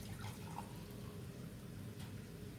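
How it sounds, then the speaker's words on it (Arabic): Milk poured from a cup into a bowl of dough mixture with baking powder, a steady liquid pour running close and unbroken for a couple of seconds under a faint background hiss. "وهكمل الكوبايه معايا لبن"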